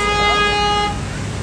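A car pressure horn honks once in a loud, sustained, multi-tone blast lasting under a second, followed by a quieter tail with background noise.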